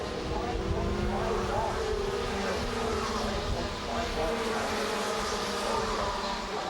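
125cc racing karts lap a track in a high buzzing engine drone with shifting pitch, steady and continuous at moderate distance, while a commentator talks over it.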